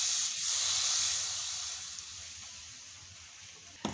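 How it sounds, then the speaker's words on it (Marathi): Rinse water from a mixer jar goes into frying masala for a Maharashtrian masvadi curry, bringing a loud burst of steamy hiss and spray that gradually fades to a softer sizzle, ending with a sharp click. "आता जे आपण वाटण वाटलं होतं ते धुवून, मिक्सरचं भांडं धुवून मी ते पाणी यात टाकतेय."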